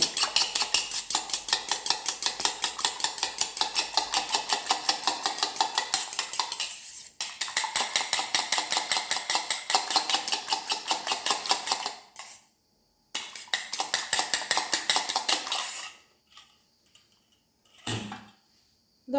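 A quail egg with salt and pepper is whisked briskly in a bowl, making rapid rhythmic clinking of a utensil against the bowl that pauses briefly, resumes, then ends with a few stray clatters.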